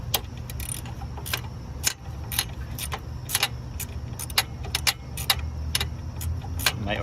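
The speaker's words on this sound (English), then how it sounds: "So that's an 8mm socket. So we're just going to loosen that." An 8mm socket wrench loosens a bolt on a Honda CR-V during alternator removal, giving a run of quick metallic ratchet clicks and clinks, close and irregular over a low background hum.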